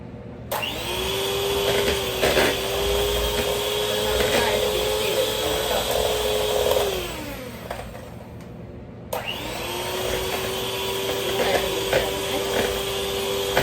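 An electric hand beater creams butter and sugar for a rich Christmas plum cake, running steadily in two long bursts with a brief pause between, a continuous whirring motor drone with no talk.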